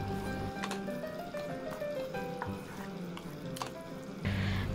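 Masala for chicken biryani sizzles in a pan as it is stirred, giving a continuous frying hiss broken by scraping strokes and a louder burst near the end.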